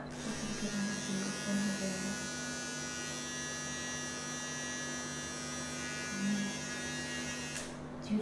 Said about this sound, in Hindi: जब आप जो नीचे वाला मार्क है उसको वन पे लेके आएंगे तो ये ट्रिमर स्टार्ट हो जाएगा